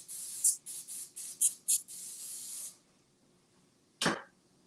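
Cooking oil is sprayed onto coated food in a series of about six short, sharp hissing bursts up close, then a pause and a single dull knock.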